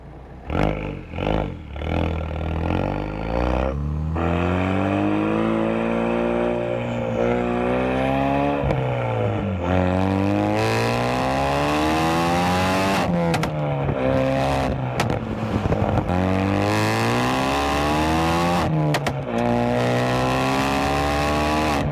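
Loud turbocharged car engine with a downpipe exhaust on a test drive, revving and shifting through rising and falling pitch sweeps, close and continuous for the whole stretch with a few clunks and rattles.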